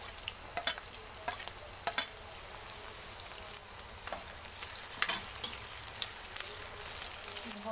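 Small potato pieces frying with chillies on high flame for tarri poha, a constant bright sizzle broken by sharp, frequent spatula scrapes and taps, close and without talk.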